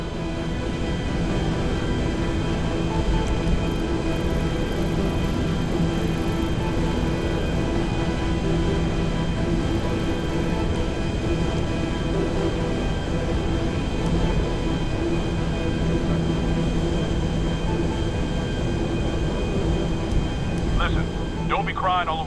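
A propeller airplane in the Grand Theft Auto V video game drones with a steady, continuous engine roar throughout, loud and unbroken, with faint high tones briefly above it.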